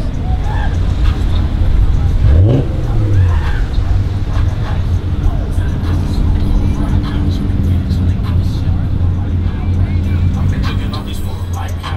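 A Toyota Supra at a New Year car cruise in Southern California accelerates with a rising engine note over steady traffic noise and babbling voices nearby.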